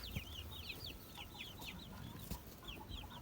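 Young chicks in a brooder bedded with rice hulls and sawdust cheep continuously in quick, high chirps. The calls are faint and a little distant over a low background hum, with no talking.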